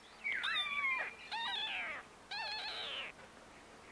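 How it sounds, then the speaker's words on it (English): A kitten left alone inside a house gives three separate high, plaintive meows, each about a second long with short pauses between, close and clear over a quiet background. "Gosh, it's a kitten."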